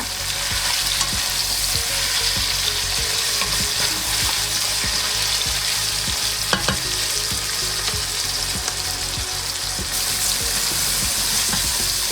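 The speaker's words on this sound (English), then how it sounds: "And of course, salt and pepper. And we're gonna saute them." Garlic sautéing with salt and pepper in a pan, a continuous close crackling sizzle with occasional utensil scrapes and clicks running throughout, no voices.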